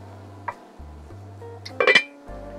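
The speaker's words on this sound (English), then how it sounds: "We're going to put our lid on" Metal lid set onto a pot of beef bourguignon, a couple of soft taps followed by a brighter clattering clink near the end, close and alone.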